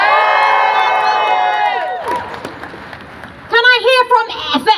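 A rally crowd in a civic square at a Palestine solidarity march cheers loudly and steadily, with layered shouting and whoops that fade, then burst again in sharp vocal yells near the end.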